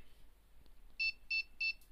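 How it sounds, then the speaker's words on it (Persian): A three-phase voltage and current measuring meter with relay control gives three short, evenly spaced electronic beeps after a faint quiet stretch, clear and close in a still room. "3 تا بیپ زد، یعنی ذخیره شد."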